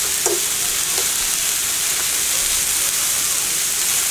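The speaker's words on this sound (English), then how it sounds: "I add a little bit of water when it's ready, and then I let that make my veggies a little tender" Vegetables cooking in a pan with a little water added, a loud, steady, close hiss of sizzling and steam with a couple of faint utensil clicks near the start.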